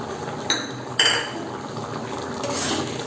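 Garam masala powder is stirred into watery mixed dal tadka in a pot, with two sharp clinks of a spoon against metal followed by a soft liquid slosh.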